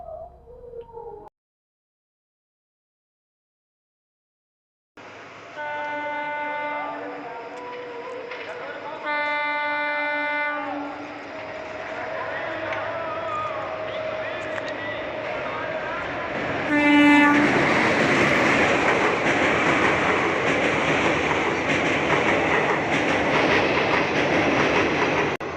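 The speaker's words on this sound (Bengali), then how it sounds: "তো এই ট্রেনটা আপনাদেরকে দেখাবো" A train crossing a bridge sounds several drawn-out horn blasts, then a loud, steady rumble of wagons rolling past close by, with no talk.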